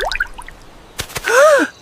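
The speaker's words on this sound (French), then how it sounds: "Le bruit de la goutte a fait pousser une fleur." A cartoon water-drop effect from an animated children's story: a bright plinking drip, a couple of sharp taps, then a swooping, wavering tone, loud and close.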